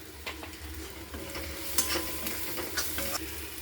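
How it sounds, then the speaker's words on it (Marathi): Spices, tomato and crushed peanut powder stirred and sautéing in a pan, with a soft steady sizzle and occasional scraping strokes of a spoon, close and moderately quiet, no talking. "मसाले मस्त परतले गेलेले आहेत"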